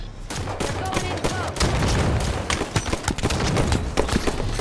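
Rapid gunfire crackles in a video game match, dense bursts of overlapping shots and impacts, loud and continuous with rhythmic cracks, with faint game voice announcements underneath.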